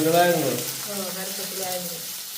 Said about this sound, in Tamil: வெங்காயத்தை வதக்குவோம்.